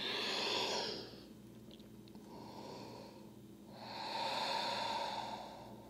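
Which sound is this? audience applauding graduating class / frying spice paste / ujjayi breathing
ujjayi breathing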